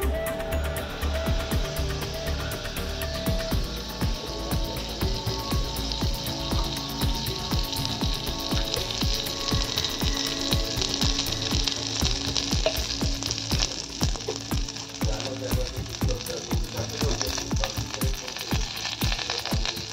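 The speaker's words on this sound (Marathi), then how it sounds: "यात टाकूया आपण थोडं तूप, गरम होऊ देऊया." Ghee heats and sizzles in a pan on a gas stove, a steady, dense frying crackle that runs unbroken at close range, with nobody talking.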